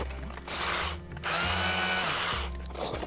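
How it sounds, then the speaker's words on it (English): A drill grinds in two long bursts with a brief pause between, rough and ratcheting as it bites through the metal rivets of a Matchbox diecast Pontiac Grand Prix model close by. "Just drilling the rivets off,"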